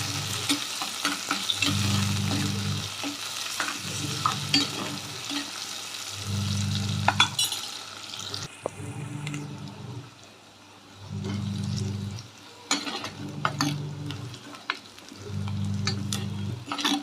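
Onion and curry leaves fry in oil in a clay pot, a steady loud sizzle broken by repeated scraping stirs at a regular rhythm.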